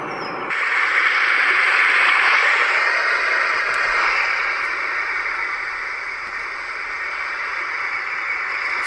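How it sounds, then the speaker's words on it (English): A white noise sound machine switches on to an ocean setting, a broad steady roar of surf-like hiss that swells and slowly eases, alone with no talking. "that sounds like the ocean. Definitely water, whatever it is."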